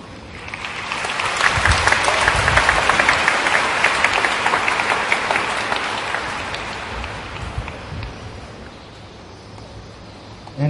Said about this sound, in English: an applause for my parents and my family